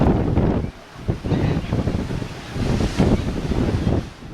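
Atlantic Ocean waves wash against the coast just outside old fortress walls, rolling in loud, uneven surges with wind buffeting the microphone.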